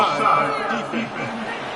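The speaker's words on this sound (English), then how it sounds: "there's all this crowd noise" A stadium crowd in the NCAA 26 college football video game produces a steady, dense roar and murmur that runs continuously without breaks at moderate loudness.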